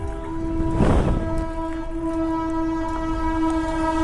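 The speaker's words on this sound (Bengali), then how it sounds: "ট্রেন আসছে।" A train nears a railway level crossing on a road trip from Kolkata toward Tarapith, its horn blaring in steady sustained tones over rumbling wheels, loud and close, with a burst of broadband noise as it rushes past.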